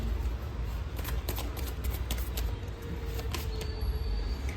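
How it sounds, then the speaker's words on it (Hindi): Tarot cards being shuffled and drawn at close range, a steady stream of quick papery flicks and riffles under a constant low background rumble, with no talking. "तो मुझे थोड़े से कार्ड्स और निकालने पड़ेंगे फ्रेंड्स"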